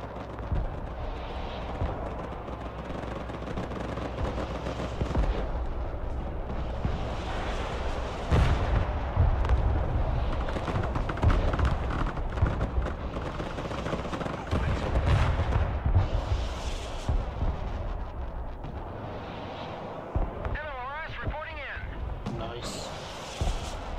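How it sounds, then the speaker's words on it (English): Artillery and MLRS rocket strikes land repeatedly in Broken Arrow, a dense barrage of booming blasts and rumbling impacts, several heavy hits swelling through, with a voice talking over parts of the bombardment. "Oh yeah, I got artillery dropping on there."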